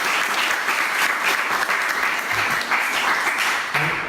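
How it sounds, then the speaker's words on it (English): Loud, dense audience applause at a political endorsement event in New London, continuous clapping with slight surges and a few faint voices mixed in. "let's have a round of applause"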